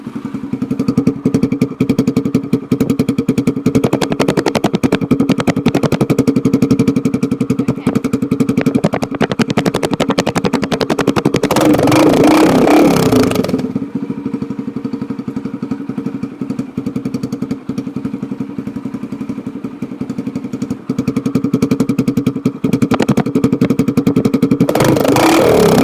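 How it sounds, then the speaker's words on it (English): A blue Yamaha TT-R 125L dirt bike engine idles with a rough, rapid putter, rising in two loud revving bursts, one at mid-clip and one at the end, close to the microphone with no talking. "I'm going to be starting up and revving a 125L."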